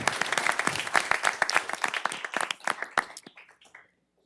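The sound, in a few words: audience applause at a city council meeting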